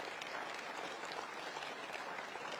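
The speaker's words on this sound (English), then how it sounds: "Give them a round of applause" Applause from a Conservative Party conference audience, a steady, dense wash of many hands clapping throughout, fairly quiet and without speech.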